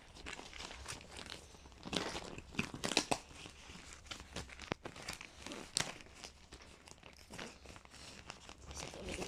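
Plastic pouches of fireworks and firecrackers being handled and opened up close, with repeated crinkling, rustling and tearing sounds in irregular bursts throughout.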